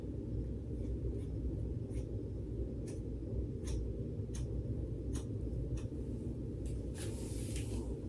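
Salon scissors snipping through layers of a client's hair, a series of short, crisp cuts spaced about a second apart, ending in a quick flurry of snips, over a steady low background rumble.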